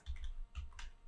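A few quick keystrokes on a computer keyboard during a Windows software setup, three close soft clicks in just over a second with no voices.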